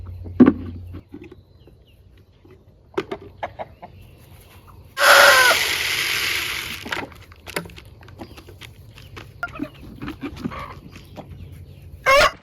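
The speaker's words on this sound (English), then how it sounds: "I swear that rooster is a diva." A rooster on a homestead crowing loudly in one long, strained call midway through, surrounded by scattered clucks and soft farmyard noises at close range.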